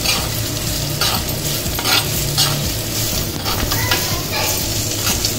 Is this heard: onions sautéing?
yes